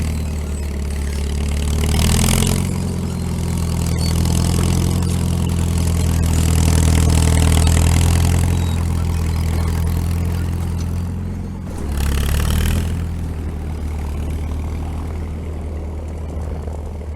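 A vehicle engine drives steadily while towing a long trailer loaded with firewood, a continuous low rumble with mild swells and a brief dip near the end, heard close and alone.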